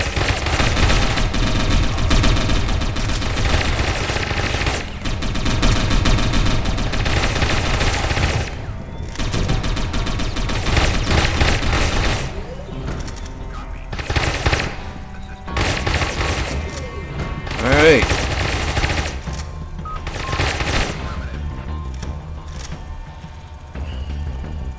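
Sustained gunfire in the cyberpunk game Satellite Reign, a dense loud fusillade of overlapping shots for the first stretch, then thinner bursts and single cracks with gaps, close and continuous.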